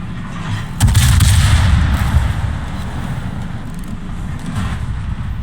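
Naval gunfire from the Moskva warship in a naval combat video game, a loud heavy boom of a salvo followed by a long rumbling roar that slowly fades, with no voices.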